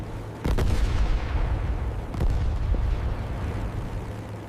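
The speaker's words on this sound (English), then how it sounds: "Anti-aircraft fire filled the sky." Anti-aircraft artillery fire around a Douglas SBD-2 Dauntless dive bomber in wartime, heard as a loud, dense rumbling barrage with two sharper blasts punching through a continuous low roar.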